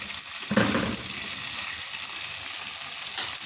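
Spicy chicken frying in a pot as it is stirred, giving a steady close sizzle with soft scraping surges from the stirring and no talk.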